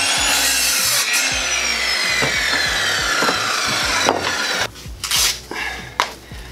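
Wood is cut with a handsaw in steady back-and-forth rasping strokes, close and loud, with the strokes becoming shorter and more broken near the end.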